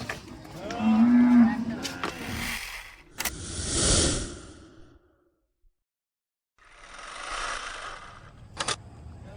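Sahiwal cattle mooing in a shed: deep, drawn-out moos and heavy breathy sighs with a few metallic clanks, broken by a stretch of near silence before another low call.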